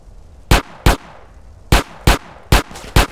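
In the video game GTA San Andreas, six loud, sharp gunshots crack in two uneven bursts, close and punchy, with no talk over them.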